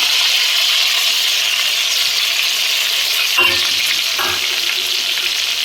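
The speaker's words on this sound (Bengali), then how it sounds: "আর দিচ্ছি রসুন বাটা" Garlic paste sizzles loudly in a hot frying pan of oil and onion paste for a Bengali chicken dish, a steady hiss with a couple of brief scraping stirs.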